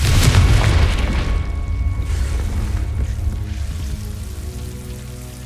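A Confringo fire spell detonates in Hogwarts Legacy, a loud booming blast at the start that rolls into a long rumbling, crackling decay over several seconds, with no voices.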